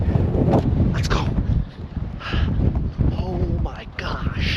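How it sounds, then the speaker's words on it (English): Gusty wind rumbles against the microphone on Twin Peaks in San Francisco while people talk over it in short bursts. "It's very windy."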